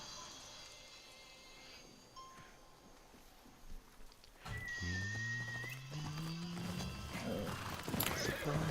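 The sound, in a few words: horse neighing and hooves in a video game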